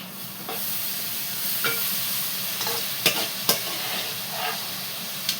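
Small fish frying in a pan, with a steady close sizzle and sharp intermittent pops and spatters throughout, alone without any voices.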